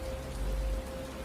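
Rain falls steadily in a soft, even hiss with a low rumble underneath, fairly faint and with no voices.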